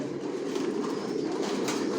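Racing pigeons of Johnson racer lines murmur in their loft, a soft, continuous overlapping cooing at moderate distance over a brief span.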